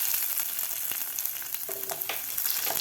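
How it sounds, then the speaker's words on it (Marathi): Curry leaves fry in hot oil in a pan while cooking a spicy kurdai onion vegetable dish, giving a steady crackling sizzle with a few sharp pops and the scrape of stirring, with no talking. "कढीपत्तासुद्धा व्यवस्थित फ्राय करून घ्यायचा आहे आपल्याला."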